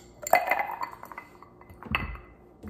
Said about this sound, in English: ice sphere into the rocks glass.